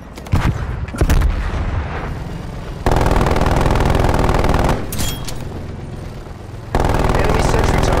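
A sentry turret fires in Call of Duty: Black Ops Cold War, loud, rapid automatic bursts in long sustained stretches, broken by short pauses, with sharp booming hits near the start.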